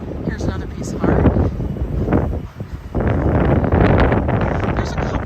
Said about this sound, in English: it's a little windy right here